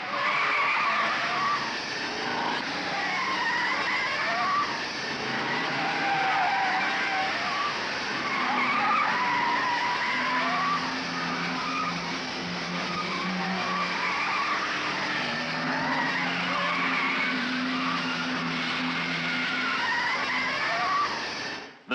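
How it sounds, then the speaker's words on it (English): Touring race cars in the 1971 Hardie Ferodo 500 at Bathurst, heard from a distance as a steady engine drone with tire squeal, one car pulling away at speed on Conrod, with a faint voice now and then. "The sheer potency and speed of Moffat's car on Conrod as he gradually lengthens his lead over French."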